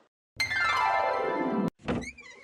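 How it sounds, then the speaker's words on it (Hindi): A household door opening in a Hindi family drama, heard as a sustained creaking sweep followed by a sharp thunk and a brief rattle, close and loud with no talk. "ये लगता है कि दरवाजा खुलने की आवाज है, ये बहू ही होगी।"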